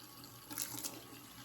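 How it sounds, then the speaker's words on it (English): A bathroom faucet runs water over a makeup brush, a brief steady splashing stream with a slight swell near the middle, close and alone. "Run it under the faucet,"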